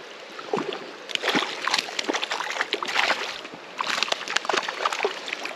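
A small hooked rainbow trout thrashes at the surface of murky water, making close splashes and sloshing bursts in two clusters separated by a brief lull.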